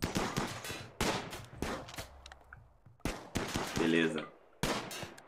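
Bursts of gunfire from a colony battle in the video game RimWorld: several rapid volleys of sharp shots separated by short pauses, fairly loud, with a voice heard at times.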